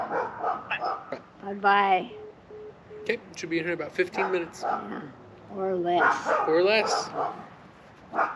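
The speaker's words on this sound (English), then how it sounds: "That's the neighbor's dog barking." A neighbor's dog barks in short, sharp bursts and yips in the background while someone talks on the phone nearby, the barking rising and falling between her sentences.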